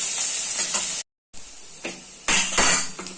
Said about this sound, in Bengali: উচ্ছেটা ভাজা হবে আর ফোড়নটা ওটাও একটু ভাজা ভাজা দিয়ে হবে।